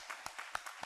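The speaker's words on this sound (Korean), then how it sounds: "우리 박수로 한번 환영하겠습니다" Scattered claps from a church congregation welcoming a groom, a handful of separate hand strikes spread across under a second, fairly quiet and sparse.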